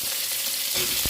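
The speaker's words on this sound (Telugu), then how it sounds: "కరివేపాకు వేసాము, పచ్చిమిరపకాయలు వేస్తున్నాను, కొన్ని దొండకాయ ముక్కలు, కొన్ని గ్రీన్ పీసు," Curry leaves, green chillies, ivy gourd pieces and green peas frying in a hot pan give a steady broadband sizzle, with a brief louder crackle near the end.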